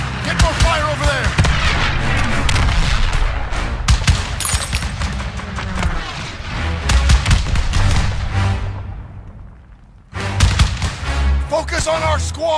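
Close, rapid rifle and machine-gun fire with heavy booms from a WWII battle game set in Marigny, France, in 1944, crackling in dense bursts that briefly fade before erupting again, with shouted voices in the mix.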